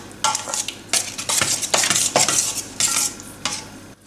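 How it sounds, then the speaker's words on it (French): Tandoori spice mix being stirred into a yogurt and lemon sauce with fresh ginger, a series of close, wet scraping strokes in an irregular rhythm. "je le mélange avec ma sauce yaourt et au citron"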